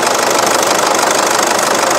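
A car engine runs steadily at idle with a knocking, vibrating rumble while a silicone lubricant spray is applied in short bursts to the drive belt, the engine sound loud and continuous throughout.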